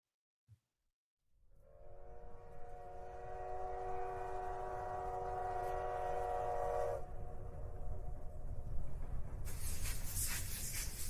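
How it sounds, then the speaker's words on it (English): A train horn blares a long, sustained multi-tone blast over the steady rumble of rolling rail cars, followed by a loud hissing spray of noise as the train passes close. "Gunny, bring that train in."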